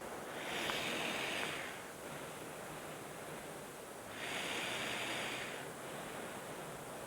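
Airflow from a CPAP machine at 12 cm of water pressure with a V-COM inline makes a continuous soft rushing hiss that rises and falls in two slow breath-like surges, close by and with no voices.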